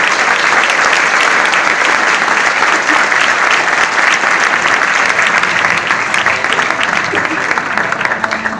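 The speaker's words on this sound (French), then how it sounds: "Vous pouvez applaudir Maître Anois parce qu'il est excellent." Sustained audience applause at a taekwondo demonstration, dense steady clapping from a crowd filling the whole stretch without a break.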